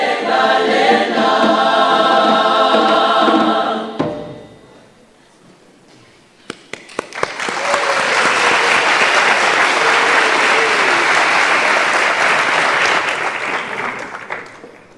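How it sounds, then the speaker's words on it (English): A graduation ceremony crowd applauds a choir after singing ends, dense loud clapping swelling after a brief lull and holding steady before tapering off. "Another round of applause for the first choir."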